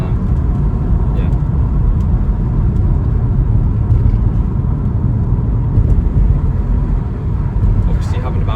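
A 2020 BMW 440i M Sport Gran Coupe with its 3.0-litre B58 engine drones steadily from inside the cabin while driving, a continuous low rumble with a voice talking over it.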